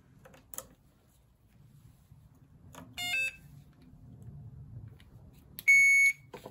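A power probe tester hooked to a lawn mower's electrical system gives two short, sharp electronic beeps a few seconds apart, close and loud over faint background clicks.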